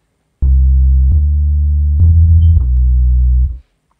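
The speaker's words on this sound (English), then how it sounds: "I like to just kind of etch out another sine wave" A deep synthesized 808-style sine wave bass tone, made in FL Studio, plays a short sequence of sustained notes, each changing pitch with a soft click, then stops abruptly.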